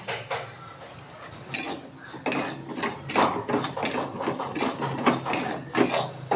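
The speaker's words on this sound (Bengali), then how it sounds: "কড়াইটা গরম হয়ে গেছে আমি এখন সুজিগুলো একটু বেজে নিচ্ছি" Dry semolina roasting in a hot wok over a gas flame, a spatula scraping and clinking against the metal in steady, repeated strokes, close and fairly loud with no talk.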